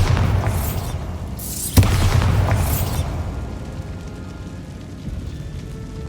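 A Bombarda spell going off in Hogwarts Legacy, a loud booming blast with a sharp crack at its peak, followed by a fading rumble and low debris noise.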